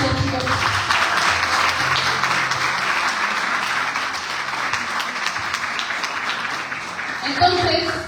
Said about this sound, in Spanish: Un aplauso y gracias, chicos.